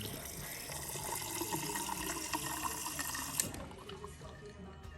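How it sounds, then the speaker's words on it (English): Chilled water runs steadily from the door dispenser of a Samsung Family Hub refrigerator, a continuous close stream that fades out near the end, with faint background voice. "With the water ice dispenser, we have three options here. We can take the chilled water, cubed ice, and crushed ice,"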